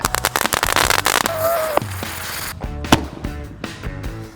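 Jumbo 1.5-inch Roman candle fireworks fire in a rapid volley of sharp pops and bangs, loud and close, and then the shots come more spaced out over a steady crackling hiss.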